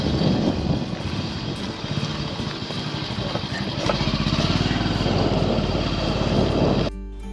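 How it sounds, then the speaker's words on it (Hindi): A motorcycle climbs the road up to Amer Fort in Jaipur, its engine droning steadily close to the microphone with road and wind noise, and the sound cuts off abruptly near the end. "तो अभी मैं यहाँ पे बाइक पे जाऊँगा"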